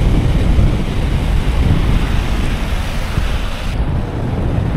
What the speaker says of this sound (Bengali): কক্সবাজার সমুদ্র সৈকতের পানির আওয়াজ,